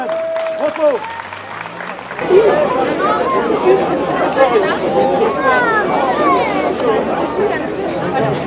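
A festival audience breaks into loud sustained applause and cheering after a short lull, a dense crowd wash that carries on to the end.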